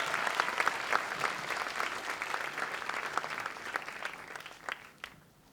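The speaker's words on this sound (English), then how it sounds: "can we, the IB Year 12 students, have a massive round of applause" Applause from a school performance audience for IB Year 12 students, a dense crowd of clapping hands that stays steady, then thins and fades out near the end.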